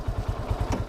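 Close up, a used mini sports bike engine idles with a quick, regular thumping pulse, a short steady stretch of mechanical chugging with no voices.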